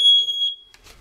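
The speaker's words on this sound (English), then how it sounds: "when you change your clocks, to also check your smoke detectors" A smoke detector sounds during a test, one sharp, piercing high-pitched beep lasting about half a second, loud and close, followed by quiet.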